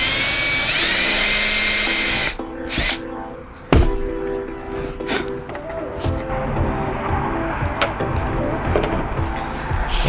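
A power drill pre-drills holes in a clinched ducktail car spoiler, with loud bursts of whirring and grinding broken by pauses, tool clatter and some background talk.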